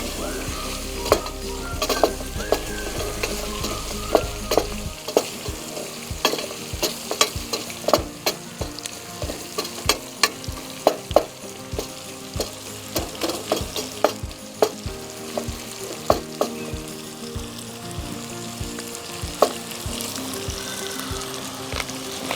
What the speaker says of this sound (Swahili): Then we continue frying like 1 minute.